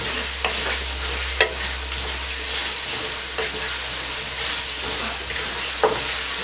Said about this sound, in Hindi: आप सब स्पाइसेस डाल दें। चंद सेकंड के लिए फ्राई करें।